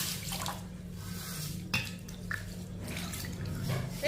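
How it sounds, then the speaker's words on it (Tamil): Water pours steadily into a bowl of cooked ragi with a soft, continuous splashing and trickle, close by and moderately quiet, with faint clinks. "இப்போ இதில் வந்து தண்ணி ஊற்றிக்கிடுவோம்."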